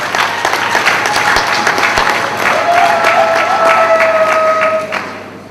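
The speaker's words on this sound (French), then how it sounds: "Je pensais que vous alliez applaudir." At a closing ceremony for Women's Month in the DRC, an audience breaks into loud, dense applause that holds steady and then tapers off near the end, a thin whistle-like tone sounding through the middle.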